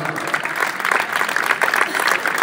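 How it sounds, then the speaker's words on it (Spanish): A concert audience applauds loudly, a dense, even clatter of many hands clapping that fills the whole stretch without pause. "Fuerte aplauso."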